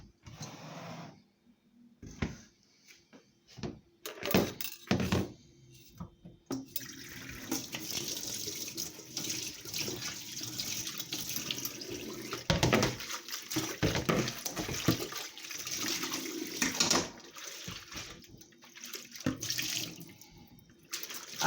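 Blended watermelon, kiwi and apple juice pours and splashes through a strainer, a steady close wash of liquid with a few short clinks and bursts at the start.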